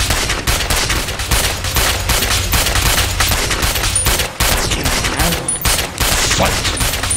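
Sustained gunfire in the video game GTA San Andreas, rapid loud shots rattling almost continuously with brief gaps, dense and close, without speech.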